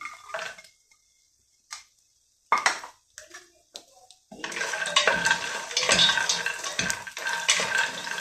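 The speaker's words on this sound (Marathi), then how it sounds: "कमी तुपामध्ये सुद्धा आपण याला छान भाजून घेऊ शकतो." Cashews, almonds and walnuts being stirred and roasted in a little ghee in a pan, with sparse spoon clinks against the metal at first, then a steady, louder sizzling scrape as the nuts are turned continuously.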